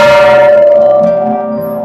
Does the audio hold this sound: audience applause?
no